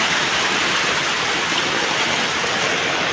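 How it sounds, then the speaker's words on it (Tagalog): Heavy mountain rain pours steadily as floodwater rushes down from the peak, a dense, constant roar of rushing water, loud and continuous with no voices. "Bali ganun talaga kabilis ang pagtaas ng tubig kasi sobrang lakas na ang ulan"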